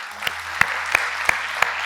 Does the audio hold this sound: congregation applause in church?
yes